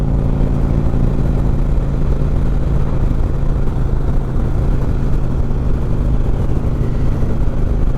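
Harley-Davidson Road King with an Ultima Dominator 2-1 exhaust, loud, steady close-up engine rumble and revving that holds a deep throaty drone throughout.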